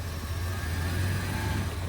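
A Nissan's engine runs steadily at a police towing auction as it is shifted into gear, a low, even hum that holds close and constant with no talking over it.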